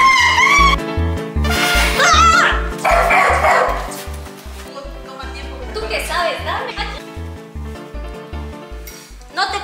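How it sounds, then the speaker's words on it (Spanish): A dog barks in short, repeated yips mixed loosely into a loud music track, with people talking and laughing over it throughout. "¡Qué bonito perro!"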